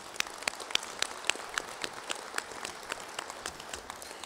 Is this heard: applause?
yes